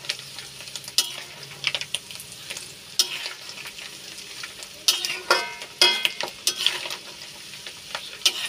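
Oil sizzles and crackles steadily as anchovies fry crisp in a second frying, with intermittent scraping and stirring clatter from a utensil against the pan.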